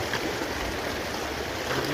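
Water gushing steadily from a solar-powered tubewell pipe, a loud, continuous broadband rush with no pauses and no voices.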